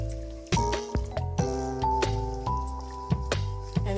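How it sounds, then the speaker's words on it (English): Spoon stirring milk and chicken broth into a white pasta sauce in a pot, with wet squishing clinks and soft sloshing repeating at a steady rhythm, close and fairly loud. "you want to go ahead and stir it until it's nice and smooth"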